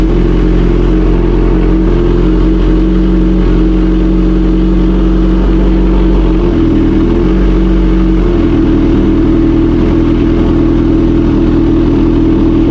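Motorcycle engine warming up at idle, a loud steady close rumble that dips briefly and settles back to a constant throb, with no talking.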